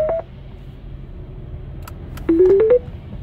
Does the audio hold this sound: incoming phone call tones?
yes